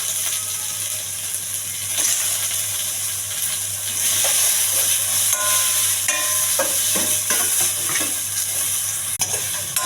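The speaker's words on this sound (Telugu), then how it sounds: "ఇవన్నీ ఇప్పుడు పచ్చివాసన పోయే వరకు వేగిస్తాను" Curry leaves, onion, green chilli and tomato frying in a pan with mustard seeds, a steady close sizzle with spoon scrapes and stirring clicks throughout, no voices.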